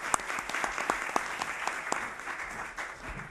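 Audience applause at a lecture on Arab culture, with crisp individual claps standing out against a broader patter of hands, fairly close and continuing for a few seconds without speech.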